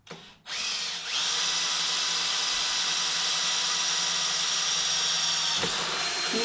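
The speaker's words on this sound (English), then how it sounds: "speed up the drill a little bit" An electric drill whines steadily at high speed after a brief start, running continuously as it bores a pilot hole through metal on a 2008 Harley-Davidson Sportster 883.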